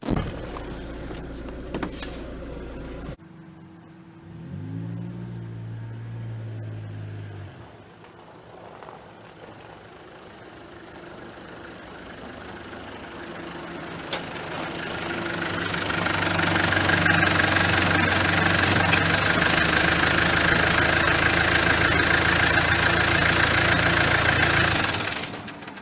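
A Mitsubishi Delica engine cranks on its new starter with a brief whirring grind, catches, and settles into a steady idle that rumbles for a while before rising into a louder, rougher, sustained running note near the end.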